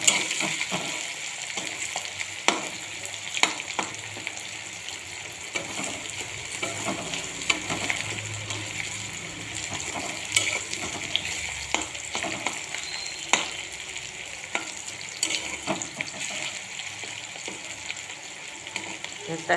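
Something frying in oil in a pan before chicken goes in, a continuous close sizzle with frequent ladle scrapes and taps against the pan, no voices.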